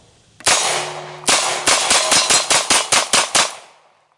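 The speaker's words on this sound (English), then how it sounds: "let's go ahead and do us a little mag dump right here" Rapid pistol magazine dump at USPSA targets on a range: about a dozen loud, sharp shots, the first two spaced apart, then a fast even string of close reports with short ringing tails.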